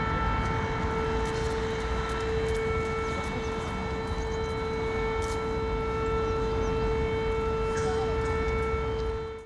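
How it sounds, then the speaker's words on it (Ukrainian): An air raid siren sounds during an alert in Kryvyi Rih, Ukraine, holding a loud, steady tone with layered harmonics for the whole stretch over broad background noise. "Під час повітряної тривоги Анна, мешканка Кривого Рогу, переходить в ук"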